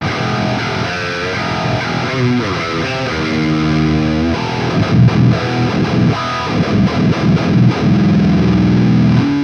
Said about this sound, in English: I just switched to the 8th string to like really showcase the variety of like this distortion in here.